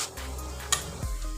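Local Assamese chicken pieces frying in a pan, with a steady close sizzle and a brief clack of stirring partway through.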